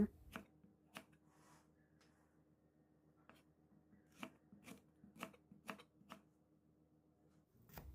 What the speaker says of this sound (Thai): จากนี้เอาตะไคร้มาหั่นเฉียง